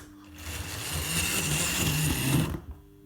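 Bachmann J72 model locomotive runs on track, a brief whirring motor whine that rises, holds for about two seconds, then cuts out.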